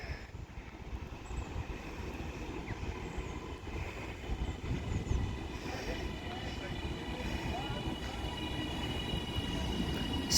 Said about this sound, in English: So then 397012 arrives in now